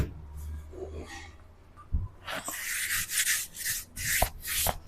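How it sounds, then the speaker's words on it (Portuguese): A power sander works a piece of wood, bursts of harsh rasping friction that start after a quiet moment and repeat unevenly, close and loud. "eu vou estar lixando um pedaço aqui"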